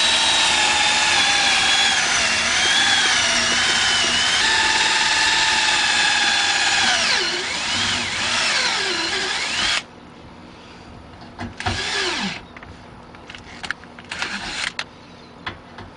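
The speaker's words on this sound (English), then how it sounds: "Next, we're going to use our step bit." A power drill runs loud and steady with a step bit, boring a hole into the metal of a Ford F-150 truck with cutting oil applied. The pitch shifts as the bit bites, then it stops, and short bursts follow.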